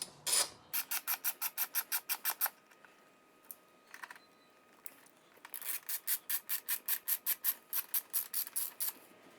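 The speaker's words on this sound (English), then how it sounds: "now we're going to be removing the two bolts that are holding in the top of the airbox" A ratchet loosens the 10 mm bolts holding the top of the airbox on a Honda XR650L motorcycle: long runs of rapid, even clicking strokes, a brief pause with a few scattered clicks, then another steady run, close and loud.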